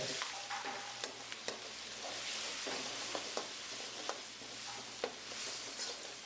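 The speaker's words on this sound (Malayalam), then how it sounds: "അതിലേക്ക് പച്ചമുളക് ഇട്ട് വഴറ്റുക" Green chillies sauté in hot oil with ginger-garlic paste and coconut pieces for a beef curry, producing a steady, close sizzle broken by occasional sharp spoon clicks against the pan.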